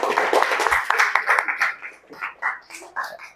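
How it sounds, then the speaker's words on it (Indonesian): A classroom audience at an Islamic religious education lesson claps in a brief, dense burst of applause that thins into scattered individual claps after about two seconds. "beri tepuk tangan dulu untuk"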